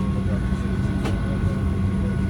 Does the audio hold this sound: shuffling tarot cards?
no